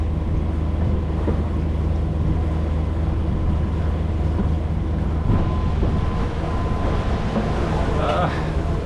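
Inboard diesel engine of a Bavaria 45 Cruiser sailboat running steadily at about 2300 RPM while under way, a constant loud low drone with rumbling hum, and someone talks over it.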